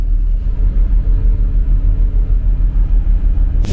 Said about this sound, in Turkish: Şehirlerin değişmez problemi trafik.